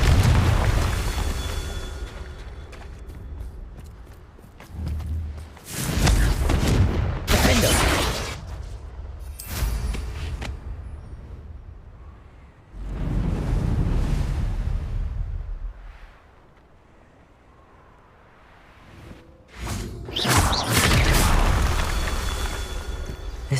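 Repeated Confringo fire-spell blasts in Hogwarts Legacy, each a loud booming burst with a rolling rumble, spaced several seconds apart across the stretch, with quieter gaps between them.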